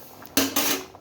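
A metal spoon scrapes and stirs a potato, tomato and egg curry in a cooking pot, two short close scraping strokes against the metal with no talking.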